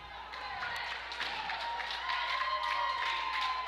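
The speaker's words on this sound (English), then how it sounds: "the fans are cheering the foul" Fans at a girls' high school basketball game clap and cheer over a foul call, a steady, moderately distant wash of applause and crowd noise with talk faintly underneath.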